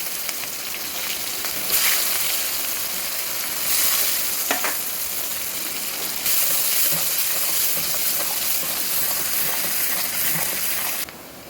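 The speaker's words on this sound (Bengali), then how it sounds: "এই পেঁয়াজগুলো তেলের ওপর দিয়ে দেবো" Onions frying in hot oil give a continuous, close sizzle and hiss with soft stirring scrapes, steady throughout and ending abruptly, with no voices.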